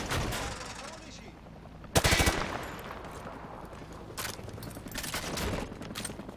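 Gunfire on a shooting range in Call of Duty: Modern Warfare 2, with a sharp close burst of automatic fire followed by several more bursts over a low background hum.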